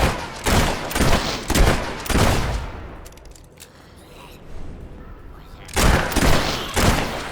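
Bursts of gunfire in the game Fable 3, loud and close, in several volleys with a quieter lull in the middle before the shooting resumes.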